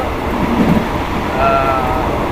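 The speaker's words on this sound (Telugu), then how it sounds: "పెద్ద స్పీడ్ వెళ్తుంది ట్రైన్, మాత్రం మామూలు స్పీడ్ కాదు" A metre-gauge train in Thailand runs fast, giving a steady, loud rumble of wheels and rail noise from on board, with a faint high whine swelling midway through.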